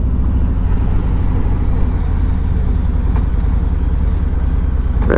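A 2021 Harley Davidson Road Glide Special rumbles steadily while riding, with a loud, continuous low engine drone and wind noise heard from on the bike throughout.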